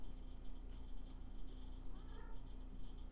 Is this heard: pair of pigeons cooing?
no